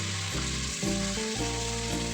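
A large onion and four tomatoes fry in a pan for tomato rice, giving a steady close sizzle under a loud, shifting tonal hum, with no talk.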